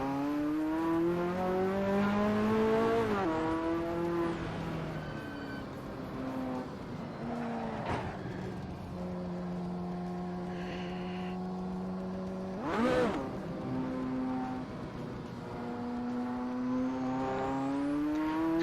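A Ferrari engine in the Goodwood Festival of Speed VR racing game revs hard, its pitch climbing and dropping through gear changes, and a car whooshes past around the middle. The engine note stays loud and close throughout, with no talking.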